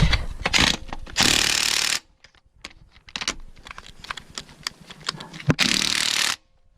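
An impact wrench works a bolt on an Eclipse during a timing belt job, giving several loud hammering bursts of one to two seconds, separated by quieter clicks and handling noise.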